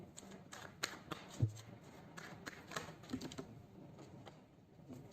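Tarot cards shuffled by hand, a soft irregular series of riffling clicks and slaps, close and fairly quiet with no voice over them.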